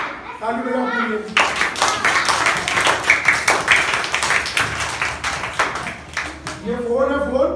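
Children clap their hands together in a classroom, a loud run of rapid, somewhat uneven claps lasting about five seconds, with children's voices speaking briefly just before and after.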